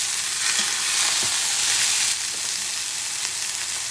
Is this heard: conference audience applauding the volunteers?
no